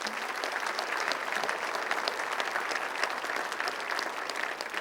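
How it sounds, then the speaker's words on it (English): A crowd at a State of the City address claps for a city department, dense and continuous applause from many hands in a large room, steady and fairly loud with no pause. "give them a round of applause"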